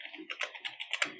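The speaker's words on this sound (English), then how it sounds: "here you can type some description as well" Quick, close keystrokes on a computer keyboard tap out a short burst of about a dozen clicks in an uneven rhythm, with no voices.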